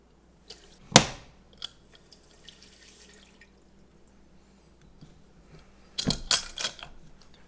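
Sugar is poured into a pot of water in two short bursts of sharp, granular splashing and pattering, with quiet gaps in between.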